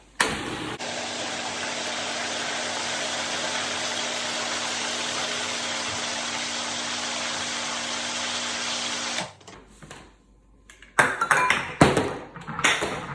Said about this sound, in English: if you have an immersion blender, you can keep it right in the pot and you can just blend all around